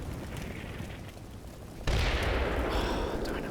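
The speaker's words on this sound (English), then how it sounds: "That's some explosion." A large blast in the wargame Combat Mission: Cold War, a sudden loud boom erupting midway and rumbling on with crackling debris over a low background of distant battle noise.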